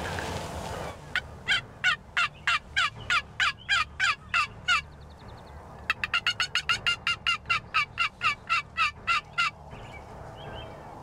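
A wild turkey gobbles from across a field in two bursts of rapid, rattling calls, each a run of quick repeated notes, loud and distinct over a quiet outdoor background.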